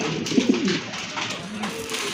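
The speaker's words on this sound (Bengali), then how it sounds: "এই যে দেখেন নটটা কত সুন্দর ডাকে" A male pigeon kept for sale coos in a loft, a couple of soft low throaty calls near the start followed by quieter cooing against steady background hiss.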